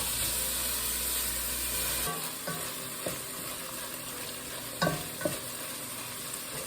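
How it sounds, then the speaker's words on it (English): Ground beef browning in a hot skillet for chili, a steady close sizzle broken by several sharp scrapes and knocks of a spatula stirring the meat, after a brief louder rush at the start. "add our ground beef to a hot skillet"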